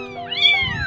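Abandoned kitten at a market crying for its mother, a series of loud, close, high-pitched rising and falling meows running together without pause.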